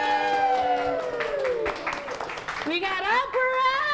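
A festival audience at an annual Filipino cultural celebration votes by applauding and cheering, with loud shouts and raised voices over scattered clapping close by.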